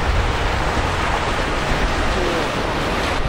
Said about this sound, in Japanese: ちょっと波荒いっすね、これ。 風強いし、結構波強い。